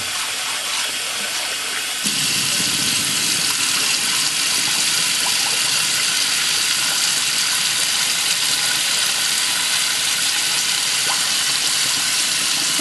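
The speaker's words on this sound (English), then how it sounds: "Rinse this out, rinse my sink out." Water runs hard from a faucet into a kitchen sink, rinsing out grits, starting with a sudden loud gush and then pouring as a steady, close, unbroken rush.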